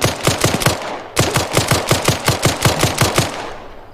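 Suppressing machine-gun fire in the Arma 3 military game: two loud sustained bursts of rapid, evenly spaced shots, broken by a brief pause near the middle, with no talking over it.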